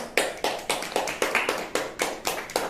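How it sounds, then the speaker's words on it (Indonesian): Children in a classroom clap together in a rhythmic pattern, about ten sharp, evenly spaced group claps, loud and close, with no talking. "Tepuk tangan."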